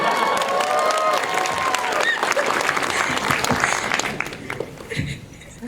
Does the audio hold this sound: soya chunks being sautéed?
no